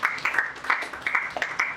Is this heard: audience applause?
yes